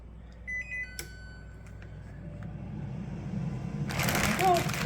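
A Cosori Turboblaze air fryer with its fan on max: a few short control-panel beeps, then a low, quiet whirring hum that slowly builds, with a brief rush of noise near the end.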